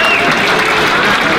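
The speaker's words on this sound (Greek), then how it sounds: "ένα δυνατό χειροκρότημα, το πιο δυνατό σας." A crowd at a company New Year pita-cutting celebration gives loud, sustained applause as guests are called to the stage, with a dense clatter of hands and some voices mixed in.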